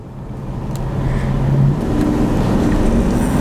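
A Jaguar XF V8 engine revs up steadily, its low growl rising in pitch and loudness as it accelerates, heard from inside the car with some road and wind noise.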